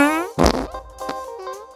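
A comic fart sound effect, a loud wet sputtering blast with a rising tonal squeal, lasting under two seconds and standing alone.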